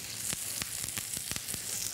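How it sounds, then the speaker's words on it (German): Duck breast sizzles gently in a frying pan, a soft, continuous crackle with small popping bursts, quiet and unaccompanied by talk. "Und einfach nur gemütlich vor sich hin brutzeln lassen."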